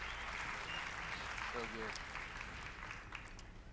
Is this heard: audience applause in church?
yes